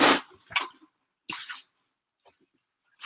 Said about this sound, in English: I've got to blow my nose real quick